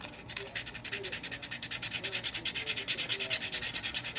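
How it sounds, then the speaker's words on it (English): Sheets of 320 grit sandpaper rub back and forth over the body panels of a Land Rover Defender pickup in quick, steady strokes, close up and moderately loud, with no voices. "to do the body work, I got some 320 grit."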